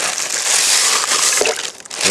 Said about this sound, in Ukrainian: Зараз сюди додам 50 грам мідного купоросу.